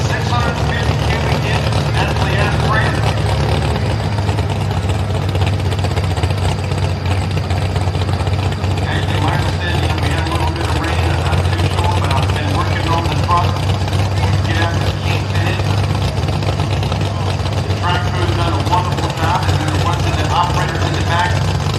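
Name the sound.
idling 650 cubic inch naturally aspirated engine, early 1940s Ford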